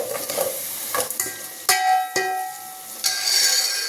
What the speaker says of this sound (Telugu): సిమ్లో పెట్టుకొని వేయించుకోండి త్వరగా మగ్గిపోతుంది